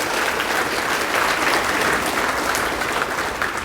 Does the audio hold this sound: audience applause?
yes